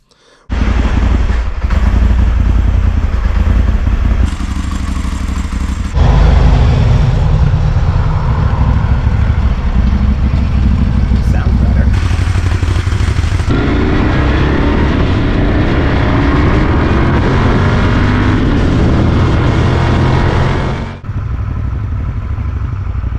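A Moto Guzzi motorcycle engine running steadily at idle and low revs while its throttle bodies are balanced, a loud, close, continuous mechanical drone with clatter and slight shifts in pitch, with no talk.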